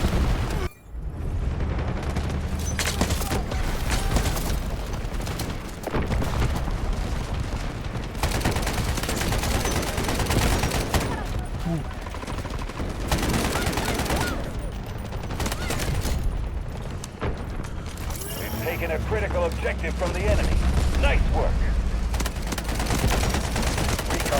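Dense gunfire in the shooter game Delta Force: rapid overlapping bursts and heavy blasts crackle almost without pause, loud and sustained, with brief lulls and faint voices buried underneath.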